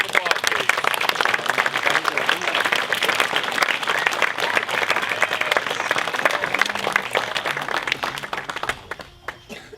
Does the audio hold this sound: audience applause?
yes